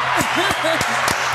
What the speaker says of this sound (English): They deserve this a round of applause.